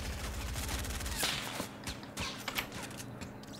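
Fortnite gunfire, a rapid close burst of shots at first, then scattered sharp cracks trailing off and fainter, with no talk over it.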